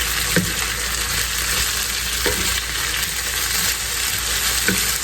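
Potatoes and peppers frying in a skillet, a loud continuous sizzle broken by a few soft scrapes and knocks of a spoon stirring, close and free of speech.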